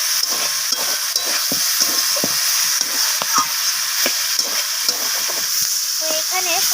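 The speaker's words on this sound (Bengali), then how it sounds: "এখানে একটু সময় নিয়ে হাতে সবজিটাকে কষাতে হবে" Chopped radish, kohlrabi and cauliflower stems cook down with small shrimp in a hot pan, a constant loud sizzle punctuated by rhythmic scraping spatula strokes, with no one speaking.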